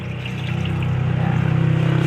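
Water is poured over mung beans in a bowl to rinse off the loose skins, giving a close, steady rushing gurgle that swells slightly as it goes.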